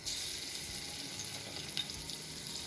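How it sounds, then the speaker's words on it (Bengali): Garlic sizzles and crackles in hot oil, a steady faint frying hiss with small pops and a bit of stirring throughout. "তেলটা গরম মনে হয়েছে রসুনটা আগে দিয়ে"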